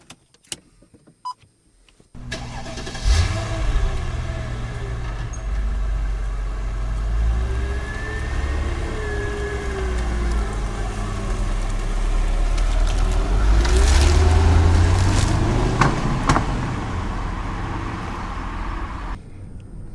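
A 2000 Mercedes-Benz S55L AMG engine on a road test comes in after a brief quiet start, holding a steady drone before climbing through a louder, rising rev in the middle and easing off near the end.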